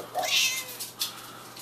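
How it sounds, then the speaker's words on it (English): A cat meowing nearby, one drawn-out meow followed by a short, softer call, clear and close against a quiet room. "What about the cat?"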